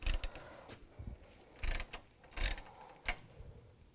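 A 13mm socket ratchet working a nut off an A/C condenser on a Cadillac SRX, giving a few short metallic clicking bursts separated by pauses, close and fairly quiet.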